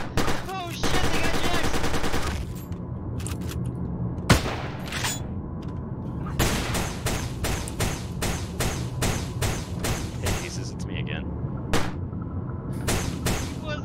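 Rapid bursts of gunfire in the submarine video game Barotrauma, an automatic volley followed by many sharp single shots spaced irregularly, loud and close, mixed with shouting voices.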